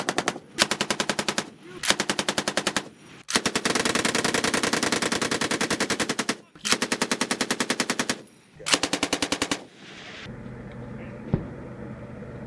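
Soldiers fire a gun while zeroing MILES gear, with long rapid automatic bursts separated by short pauses, loud and close, ending in quieter ambient noise.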